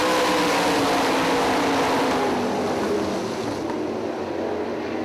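Sprint car engines racing at Hartford Speedway dirt oval: a loud, sustained roar of several engines holds steady with a faint tonal whine, then slowly fades as the pack passes.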